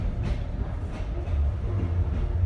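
Steady low rumble of a train in motion in Vietnam during pouring rain, a continuous rolling drone from inside the carriage with no voices.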